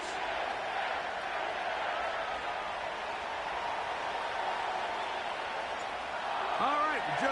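A large stadium crowd at M&T Bank Stadium in an EA Sports football video game, Browns against Ravens, gives a steady, dense roar with no breaks. A brief tonal whoop rises near the end.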